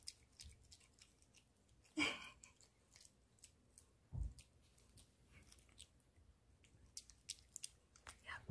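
A Maltese dog chewing gum, heard as quiet, irregular wet smacking and soft crunching in close range, with a couple of louder bites standing out in an otherwise hushed room.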